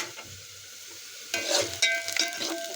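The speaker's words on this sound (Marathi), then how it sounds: "कांदा परतून घ्यायचा." Onion frying in hot oil in a pot for mutton curry: a quiet, low sizzle at first, then a louder crackling burst as the onions are stirred, with spoon scrapes near the end.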